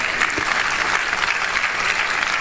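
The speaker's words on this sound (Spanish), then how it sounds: "Si le va a aplaudir, apláudale." A crowd at a church service claps steadily, a dense wash of applause that holds at an even level throughout.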